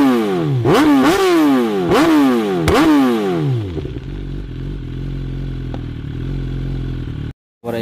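A BMW S1000 superbike in a Guwahati showroom, its exhaust barking through four sharp, loud throttle blips that rise and fall, then settling to a low, steady idle.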